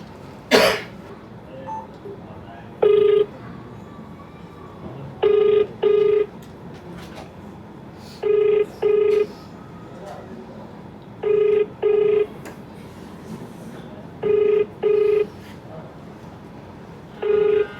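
A phone call to the police chief's office rings out repeatedly, each ring a pair of short electronic tones repeating at a steady interval, heard loud and close with no talk over it.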